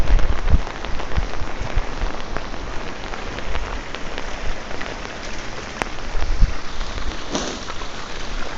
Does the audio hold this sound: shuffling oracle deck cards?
no